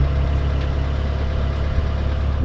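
The modified engine of a 1997 Honda car idles with a steady low, throbbing rumble, close and unbroken, with no voices.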